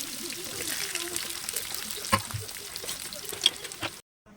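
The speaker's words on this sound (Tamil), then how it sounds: "இந்த டைமில் நம்ம வெங்காயம் போட்டுக்கலாம்." Five chopped onions drop into hot oil in a pan for crab gravy, giving a steady soft sizzling hiss with a few small pops. A voice talks over it before the sound cuts out abruptly.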